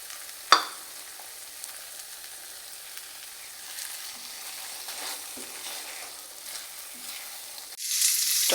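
Tomatoes frying with beaten egg in a pan, a steady sizzling hiss with one sharp clatter near the start and a louder burst of spitting at the end.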